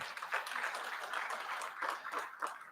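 Audience clapping at a health ministry session, a modest, fairly faint patter of applause with scattered louder claps that swells and fades over a couple of seconds.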